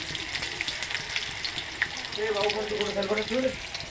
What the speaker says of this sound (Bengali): পেঁয়াজটা ভালো লাল লাল করে ভেজে নেবো